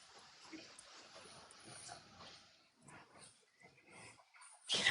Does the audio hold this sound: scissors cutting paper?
no